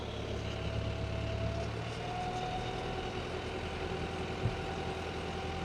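A boat engine idles steadily at low revs around a thousand to twelve hundred RPM, a low continuous rumble with a faint tonal hum and one brief knock near the end, no talk.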